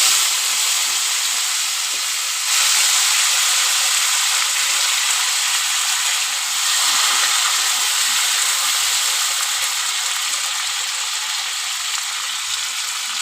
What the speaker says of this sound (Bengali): কড়াতে জিরে ফোড়ন দিয়ে দিয়েছি।